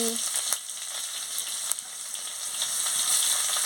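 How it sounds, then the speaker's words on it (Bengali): Panch phoron, dried chillies and chopped onion fry in hot oil, a steady close sizzle with a bright hiss and occasional small pops and stirring clicks, with no talk. "তেলটা গরম হয়ে গেছে আমি পাঁচ ফোড়ন আর শুকনো লঙ্কাটা দিয়ে দিচ্ছি এবারে পেঁয়াজ কুচিটা দিয়ে দিচ্ছি"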